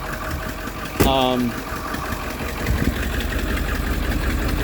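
An old vehicle whose transmission has a worn-out forward clutch idles steadily just after starting, a low rumbling chug running throughout, with a brief burst of a voice near the start.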